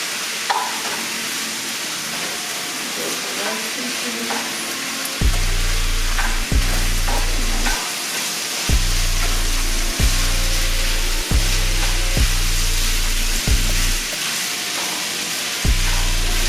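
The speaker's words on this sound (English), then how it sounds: "Throw in the soy sauce." Rice fries in a hot pan with soy sauce for vegan pineapple fried rice, giving a loud, constant sizzle broken by rhythmic, repeated stirring and scraping strokes.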